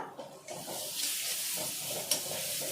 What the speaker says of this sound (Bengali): চিনিটা দেওয়ার পর কিছুক্ষণের জন্য আবার কষিয়ে নেব।